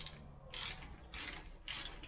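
Ratchet tightening the axle hub nut on a Honda 400EX ATV, three quick bursts of clicking separated by short pauses, close and clear.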